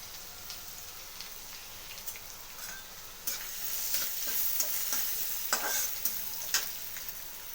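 Chopped ginger added to sautéed garlic sizzles softly in a pan for Hakka noodles, with a steady faint frying hiss broken by scattered utensil scrapes and clicks as it is stirred.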